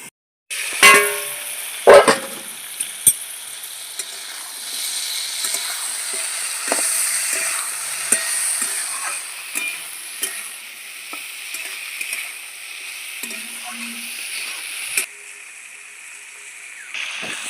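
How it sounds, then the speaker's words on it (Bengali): Bottle gourd pieces fry in hot oil while being stirred, a steady close sizzle broken by repeated scraping and clacks of the spoon against the pan, with no talking. "তেলের মধ্যে লাউগুলো একটু ভালো করে কষিয়ে নেব"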